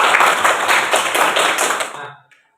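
A classroom group bursts into steady, lively applause, many hands clapping together for about two seconds before it quickly dies away.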